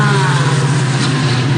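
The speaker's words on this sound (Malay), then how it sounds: "Kereta api mungkin disebabkan kereta api ini agak lama. So, bunyi dia agak bising lah." An old, very long train running, heard as a loud, steady low rumble with constant broadband roar filling the short stretch, close and unbroken throughout.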